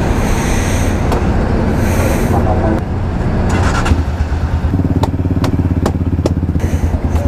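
A Rusi motorcycle engine idles and revs close by at Polillo port with a rough, throbbing hum, accompanied by clattering and passing traffic noise.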